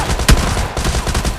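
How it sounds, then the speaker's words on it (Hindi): A single sharp pistol shot cracks out in PUBG Lite, followed by faint scattered reports in the background of the game. "मेरा टीममेट उसे पिस्टल से मारने लगता है"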